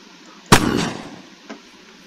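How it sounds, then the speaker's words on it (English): The Heart pistol fires in the video game Unturned: one sharp, loud shot with a brief decaying tail, followed a second later by a much fainter second report. "Now let's give the Heart a firing test."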